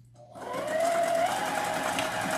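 A sewing machine runs steadily for about two seconds, stitching pink and white fabric pieces for a flamingo wreath attachment, its motor whirring loud and close with no one talking.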